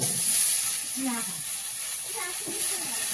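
A steady sizzling hiss of ash gourd frying in oil runs throughout, with a voice speaking over it.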